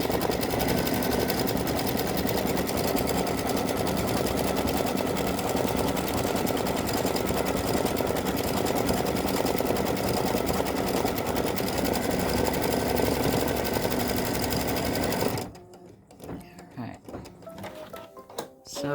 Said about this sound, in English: it's now stitched the soles of the shoes